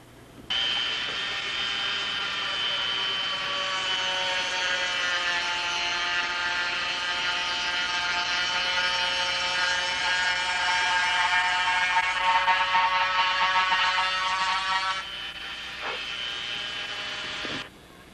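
A small rotary tool bit carving a narrow ditch in a model aircraft gives a steady high-pitched whine that runs for about fifteen seconds, then briefly drops lower before stopping, with no talking.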